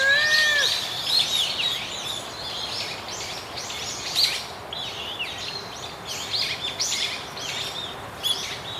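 A Satyr tragopan, a Himalayan pheasant, calls with repeated high, thin chirping and wailing notes over a steady background hiss, the calls coming in frequent, irregular bursts throughout.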